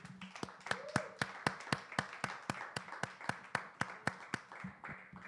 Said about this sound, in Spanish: Un fuerte aplauso al Rey.